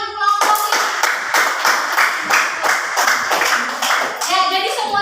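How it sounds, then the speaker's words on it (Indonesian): A primary-school class claps for a group of pupils, close and loud, in a quick steady rhythm of many hands that continues without pause, with a voice briefly audible at the end. "tepuk tangan untuk kelompok ini"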